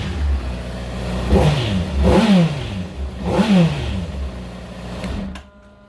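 A 2013 Honda CBR600RR 600cc supersport motorcycle engine revs close by in three sharp throttle blips, each rising and falling in pitch, before cutting off abruptly to near silence.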